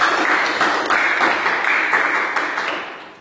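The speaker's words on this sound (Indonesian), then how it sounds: "Aplaus buat kelompok 2." A classroom group of students applauding a presenting group, with steady, dense clapping from many hands that fades out near the end.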